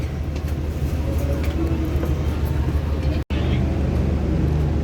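A Prameks commuter train pulls out of the station, heard from inside a carriage coupled to the engine: a dense, steady low rumble and clatter, with a momentary cut partway through.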